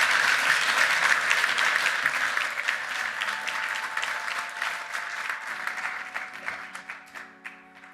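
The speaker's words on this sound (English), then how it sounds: "Let's have one more round of applause for the highest rated dirt horse in the world, Laurel River." An audience at a horse racing awards ceremony breaks into sustained applause. The clapping is loud and dense at first, then thins into scattered claps and fades out toward the end.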